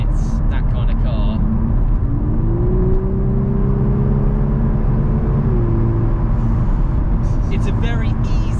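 A 2022 VW Golf R driven in race mode gives a steady loud engine drone with rising and falling revs inside the cabin, over heavy road rumble.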